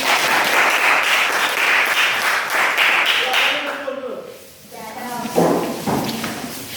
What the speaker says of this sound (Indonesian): beri aplaus dulu untuk Mas